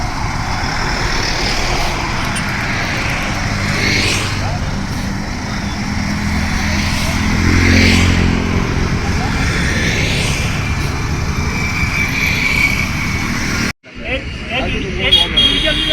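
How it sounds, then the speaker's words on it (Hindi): A new school bus drives out after its delivery, a steady engine rumble and road noise running throughout under near-continuous talk, cutting off abruptly near the end. "और ये निकली जोशी जी की गाड़ी बाहर को।"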